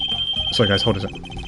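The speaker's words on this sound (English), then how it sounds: "That was my doorbell. Someone was ringing." A home doorbell rings as a steady, high electronic tone through the whole moment, partly under a man's speech.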